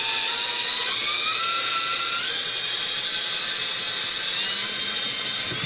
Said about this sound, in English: I'm going to line up my drill to the middle point here